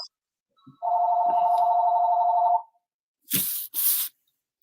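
A phone rings once with a steady electronic trill for about two seconds, then stops, followed by two short hissing bursts.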